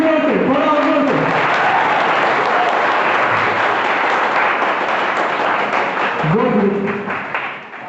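Loud, sustained audience applause from a seated crowd at an Army-related AWPL gathering, urged to clap harder, filling most of the stretch and tapering at the end, with a speaker's voice heard at the start and near the close.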